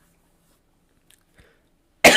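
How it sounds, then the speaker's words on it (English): After near silence and a couple of faint clicks and breaths, a single sharp, loud cough bursts close to the microphone at the very end. "I got a little cough, people."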